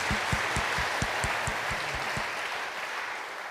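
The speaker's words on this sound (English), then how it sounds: "So, welcome Zachary Manchester for this talk with a great applause." An audience at a robotics conference applauds in welcome, a dense, steady wash of clapping heard from within the crowd that keeps going throughout and thins slightly toward the end.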